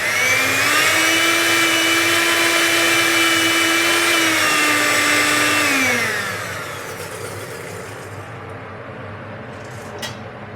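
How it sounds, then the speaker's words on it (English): A blender motor whirs loudly and steadily for about six seconds while puréeing wild garlic with hot liquid into a sauce, pitch shifting slightly as it runs, then it cuts off and spins down, leaving quieter kitchen background. "we're ladling in wild garlic into the blender"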